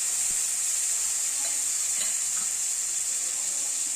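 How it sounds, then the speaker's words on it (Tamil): Seeds and ground garlic paste fry in oil in a pan on a low flame, giving a steady, soft hissing sizzle with a few faint stirring clicks. "நல்லா பொரிய ஆரம்பிச்சிருச்சு இந்த மாதிரி நல்லா பொரிஞ்சிடணும்"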